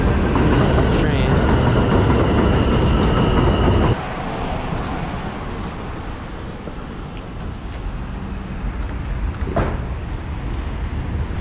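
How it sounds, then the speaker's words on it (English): Train rumbling past on a street in Bushwick, Brooklyn, a loud, steady roar of rail cars that drops in level partway through and continues as a broad wash under city noise. "There's a train."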